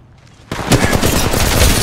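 Bursts of rapid gunfire from Apex Legends ranked play ring out loud and close after a quiet start, rattling continuously for over a second.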